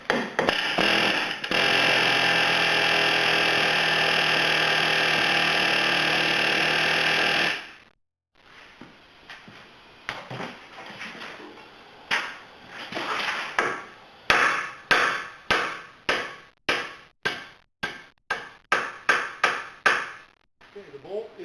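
A loud continuous air-tool roar runs for several seconds, then a flat chisel bit hammers a Jeep Compass lower control arm ball joint in sharp repeated metallic bursts, quickening and irregular, close and loud.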